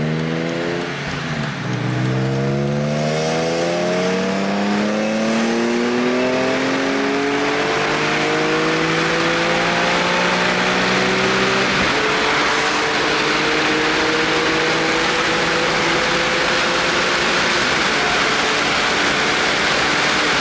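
A BMW E46 M3 with an SMG transmission pulls hard, its engine climbing through the revs in rising harmonic sweeps, with quick shifts dropping the pitch around the midpoint before it climbs again, loud and close throughout.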